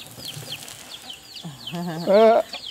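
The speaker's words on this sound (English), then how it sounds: "Look at that. The ducks got excited. They saw water." Soft quacking and chirping from ducks, then a louder burst of excited calls near the end, over light background noise.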